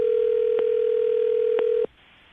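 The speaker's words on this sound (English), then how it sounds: "Let's see if we can call him back again, see if he'll answer." A steady telephone dial tone holds for nearly two seconds while a call is placed back to someone, with faint clicks partway through, then it cuts off abruptly into near silence.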